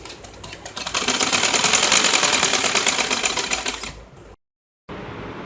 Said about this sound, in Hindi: अब इसको दूसरे पोंचे के साथ सिलाई कर लेंगे